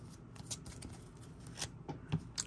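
Cards are shuffled back into the deck during a Yu-Gi-Oh card game, a few quick papery riffles and slides, close and fairly quiet.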